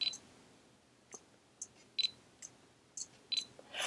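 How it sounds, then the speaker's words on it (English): Quiet, faint whirring and ticking of a Fujifilm X-T10 lens autofocusing when the shutter is half-pressed, with a few brief clicks spread across the clip and no talking. "it's going to actually focus when I half press the shutter button, and you can listen to the sound it makes"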